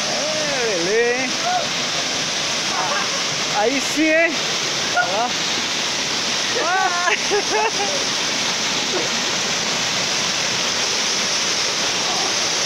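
Hidden waterfall in the Serra do Mar, a steady loud rush of falling water filling the whole scene while several people shout and talk over it.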